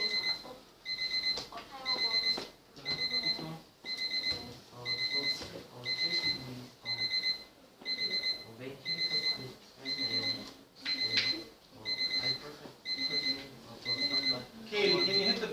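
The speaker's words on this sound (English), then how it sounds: "can you hit the button on the timer?" A timer alarm beeps in regular repeating bursts, each a cluster of bright electronic tones, running throughout while people talk over it in a classroom book-club session.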